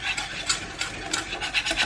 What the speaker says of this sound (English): You just want to whisk it keep whisking it until there's no lumps in there